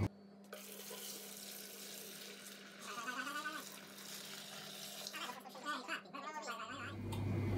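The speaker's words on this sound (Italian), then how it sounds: "il mosto, all'interno del fermentatore, splasciando pure tranquillamente" Beer wort being poured into a fermenter while brewing a spiced ale from extract and flakes, splashing steadily like running water for several seconds, with a surge of heavier pouring near the end.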